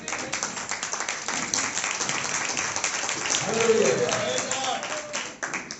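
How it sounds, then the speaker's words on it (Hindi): Congregation applause at a Sunday morning church service, a sustained crowd of clapping hands that is steady and moderately loud, with a voice speaking over it partway through. "हमें फिर से प्रभु की महिमा की तालियां देंगे।"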